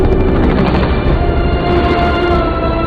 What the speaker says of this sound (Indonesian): Mereka diangkut menaiki belasan helikopter militer.